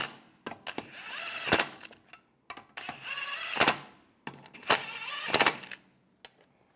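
On a 1998-2010 Volkswagen Beetle, a power tool snugs down the wheel lug bolts in three separate whirring bursts. Each burst builds and ends in a sharp tightening rattle, with short quiet gaps between them.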